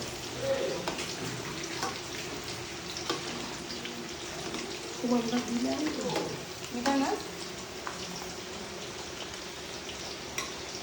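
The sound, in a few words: chicken being deep-fried for chicken fry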